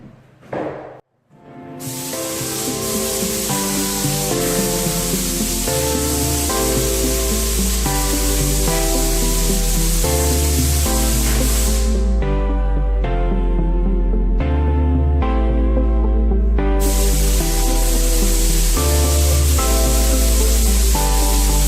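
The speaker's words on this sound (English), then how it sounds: "got the low pressure tip in there, got it at 1400, I'm going to spray half of this wall" A Graco airless paint sprayer fitted with a low-pressure tip at 1400 psi hisses loudly and steadily against a wall, a broad continuous spray sound with a few short pauses between passes and a pump thumping underneath.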